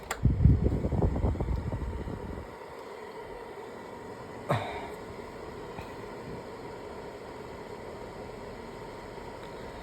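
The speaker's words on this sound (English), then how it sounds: "Now I'm starting to feel like this fan is loud." A Sylvania 15-inch tower fan hums with a steady, soft whoosh of moving air, after some brief handling noise at the start.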